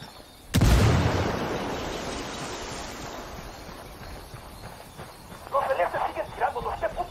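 A grenade bursts in a tactical military shooter set in open country, a sudden loud blast that rolls into a long fading rumble, followed by a rush of wind-like noise and a burst of crackling activity near the end.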